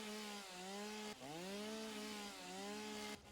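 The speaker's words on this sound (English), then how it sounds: "Just a chainsaw." Chainsaw cutting trees in the video game Satisfactory, a steady droning whine that dips and shifts pitch as the blade bites, running loud and continuous throughout with no talk.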